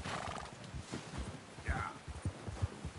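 A horse in Red Dead Redemption 2 gives a short whinny over a run of clip-clopping hooves, fairly close and quiet, with rustling movement around it.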